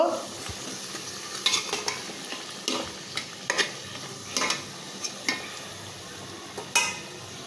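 Potatoes and flat beans with spices being stir-fried in a pan: a steady soft sizzle broken by repeated sharp scrapes and clinks of a spatula against the pan, close and with no talking.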